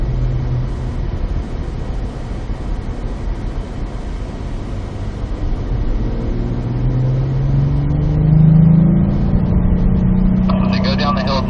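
Race car engine on a Las Vegas track day, holding throttle uphill toward a corner, a steady loud drone that rises in pitch and swells near the end, with someone talking over it throughout.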